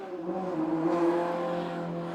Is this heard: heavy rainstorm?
no